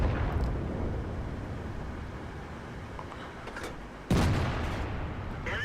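Tank gun fire from an SU-100Y in a tank video game: a loud, sharp broadband blast near the four-second mark over a steady rumbling low background, with fainter thuds earlier in the clip.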